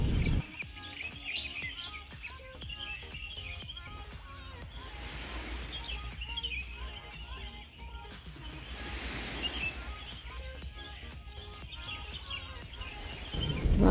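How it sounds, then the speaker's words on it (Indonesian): Birds chirp and tweet repeatedly over the soft rush of surf washing in and out, with a light breeze; calm shoreline ambience at sunrise on Kencana Beach, Sumbawa, no talking. "Kicauan burung menambah keindahan pantai ini."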